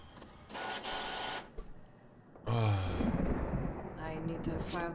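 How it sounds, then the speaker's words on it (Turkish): In the video game The Mortuary Assistant, a printer prints a document with a loud, sustained mechanical whir and feed noise that rises sharply partway through. The noise is close and fairly dense. "Ha yazıcıdan çıkıyormuş."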